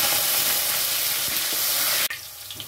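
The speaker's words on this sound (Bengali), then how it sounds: "ডাঁটাও ভাজা হয়ে গেছে, তুলে নেব।" Moringa drumsticks frying in hot oil in a kadai for Bengali shukto give a steady, dense sizzle that runs loud for about two seconds before cutting off abruptly to a quieter hiss.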